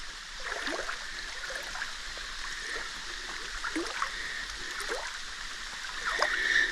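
Appomattox River water flowing steadily past a metal-detecting site, a continuous gurgling, trickling rush with small splashy bubbles, moderately close and alone, with no one talking.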